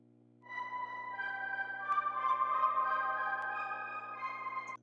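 A bright, plucky Juno synth lead plays a sustained melodic line over a low steady drone, clear and moderately loud throughout.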